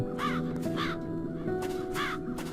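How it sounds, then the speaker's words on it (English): Crows in the video game The Dark Eye: Chains of Satinav give four harsh caws in an uneven rhythm, clear and fairly close over a steady low ambient drone. "the crows haven't left anything of the town's banner"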